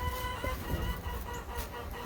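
Chickens cluck and murmur close by in a pen, giving short overlapping calls over a busy barnyard background, with no voices.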